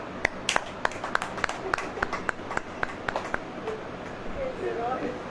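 Scattered audience clapping in a church gathering, a dozen or so sharp claps in an irregular rhythm that fade out as a preacher's voice carries on.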